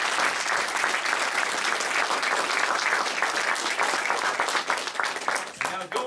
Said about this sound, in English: Big round of applause for all of you today.